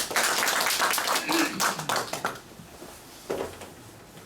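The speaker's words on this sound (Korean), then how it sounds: "큰 박수로 청하겠습니다" Applause welcoming a lecturer at a medical ultrasound seminar, with a dense burst of clapping that thins out and stops, and then a few scattered claps near the end.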